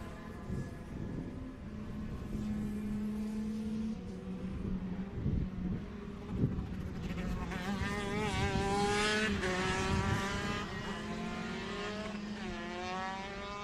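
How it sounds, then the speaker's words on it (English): Race cars on the final corner at Mondello Park circuit, heard from a distance as rising and falling engine whines that swell past one after another in a fairly quiet trackside setting. "Final race of the day, final corner of the day for Mick Dunyan."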